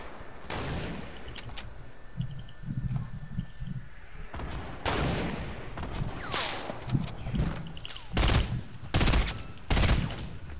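Rapid gunfire bursts in a squad-based shooter video game, sharp cracks clustering into heavy volleys that grow louder and more intense toward the end, with no talking over them.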